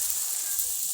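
Shrimp paste (alamang) sautéing in a pan gives a steady, bright sizzle that holds evenly through a brief moment, close and fairly loud, with no voices.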